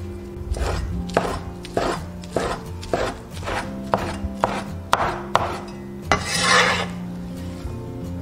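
Knife chopping an egg pancake into strips on a cutting board, a steady run of about ten crisp, close thuds with a scraping swipe near the end.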